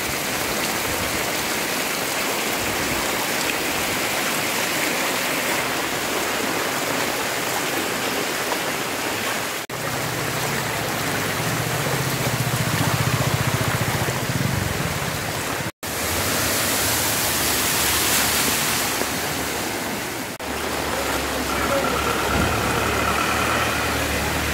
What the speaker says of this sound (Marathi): तुम्ही हा बाजारपेठेतला पाऊस बघितला